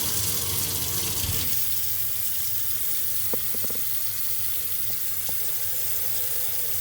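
A steady hissing rush of water from a faucet with a rotted-out fault, spraying continuously, with a few small knocks and taps partway through and no talking.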